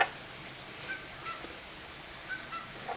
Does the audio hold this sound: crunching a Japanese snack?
no